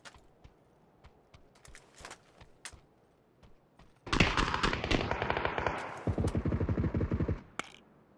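Gunfire in a shooter video game: a few faint scattered shots, then a sudden loud sustained burst of automatic fire. It ends with a rapid rhythmic volley of shots that stops abruptly, and no one talks over it.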